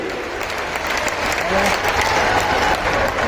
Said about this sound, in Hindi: एक बार जोरदार तालियां बजा नरेंद्र मोदी जी के लिए।